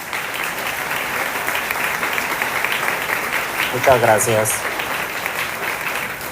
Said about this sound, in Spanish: Por favor, otro fuerte aplauso para ella.